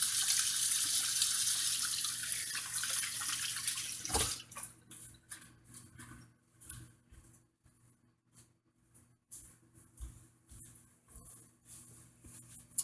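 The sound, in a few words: washing hands under a running sink tap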